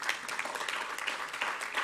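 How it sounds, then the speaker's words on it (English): Audience applause fills a general meeting hall, a steady wash of many hands clapping at moderate volume throughout, without any clear voice over it. "You can clap them still."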